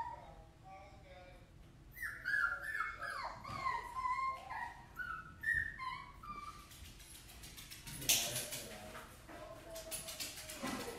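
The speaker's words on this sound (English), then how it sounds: "whining dogs in the background" Dogs whine and yip in the background, rising high-pitched cries repeating over several seconds, later joined by rapid rattling clicks and a sharp burst of noise near the end.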